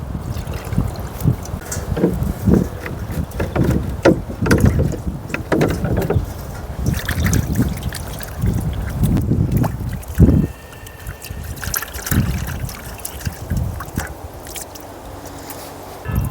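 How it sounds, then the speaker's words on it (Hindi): Dishes being washed with water poured over them at an outdoor cooking stop in the mountains beside a Swift Dzire campervan: steady, loud splashing and sloshing with clattering bursts, and no talking. "और यहाँ हो रही है बर्तन सफाई।"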